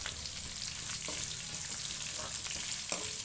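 Garlic fries in hot oil for mandakki masala, giving a close, continuous sizzle broken by faint scrapes and clicks of stirring.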